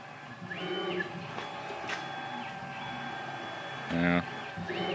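A small green CNC machine under LinuxCNC control runs with a steady mechanical hum, and stepper motor whines rise and fall in pitch as the axes move, with one louder buzzing burst partway through.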